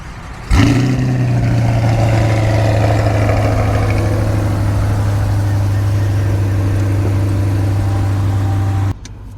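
A Chevrolet Corvette C8 engine fires up with a sharp, loud starter catch and brief flare, then settles into a steady, deep idle rumble that holds for several seconds before cutting off abruptly.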